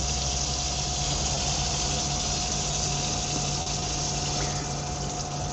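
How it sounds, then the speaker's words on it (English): Hot water running from a tap into the sink of a DIY Iveco Daily camper van, with a steady rushing flow and a constant pump hum continuing throughout, close and alone. "I'll be able to run hot water into the sink to wash the dishes."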